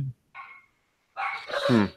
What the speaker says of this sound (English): you guys hear my dogs going crazy in the background now?